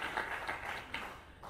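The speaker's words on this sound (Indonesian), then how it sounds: "Berikan tepuk tangan bagi Tuhan" Brief burst of clapping and applause from a church congregation, dense and fairly close over the whole short span, with no speech.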